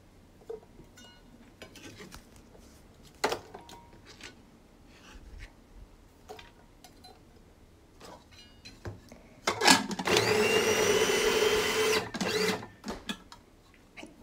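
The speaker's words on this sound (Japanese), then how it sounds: "まず玉ねぎ一口大に切ってフードプロセッサーに入れてみじん切りにしていきます" A food processor mincing bite-sized chunks of onion: after some scattered light clatter, the motor whirs in one loud, steady burst of about three seconds, then cuts off.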